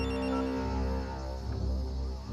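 A telephone rings loud and steady, its bright repeating electronic ring filling the scene alone without a break.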